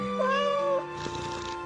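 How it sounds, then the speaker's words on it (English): A large black cat meows once, a clear drawn-out cry close by, followed by a softer trailing sound. "a cat, a remarkably large and beautiful animal, entirely black and sagacious to an astonishing degree"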